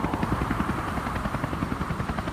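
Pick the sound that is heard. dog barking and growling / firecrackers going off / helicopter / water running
helicopter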